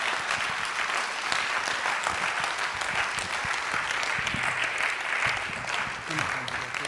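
Audience applause after a public lecture at the Ghana College of Physicians and Surgeons: dense, sustained clapping from a large crowd fills the hall at an even, steady level from start to finish.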